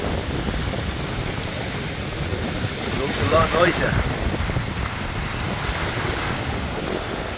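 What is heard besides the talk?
sea waves at high tide on a beach, with wind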